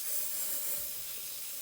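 Hairspray blasts from an aerosol can into a glass jar half filled with hot water, a steady, loud, close hiss lasting the whole moment.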